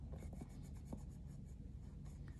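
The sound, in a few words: colored pencil drawing on paper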